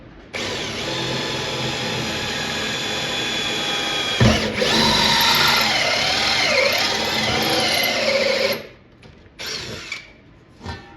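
Loud, steady whine of a power drill with a hole saw cutting through a thick metal arcade cabinet panel for several seconds, pitch wavering under load, then stopping with a few short bursts.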